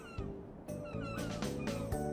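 A cat meows repeatedly in the Trials of Mana Remake, a run of close, loud, wavering mews over game sound, with no talk.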